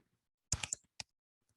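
A handful of quick keyboard keystrokes clustered together, then one more isolated tap, fairly quiet against near silence while typing into an input box.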